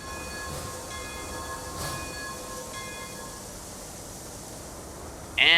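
A train stands at a station in the video game Transport Fever 2, with a soft rail rumble, a couple of sustained horn-like tonal blasts early on, and a brief louder sound right at the end.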